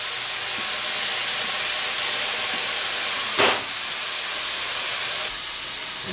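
Shoyu hitting a hot pan of sweet potato leaf stir-fry gives a steady, loud broadband sizzle with a brief hissing flare midway, and no talk over it.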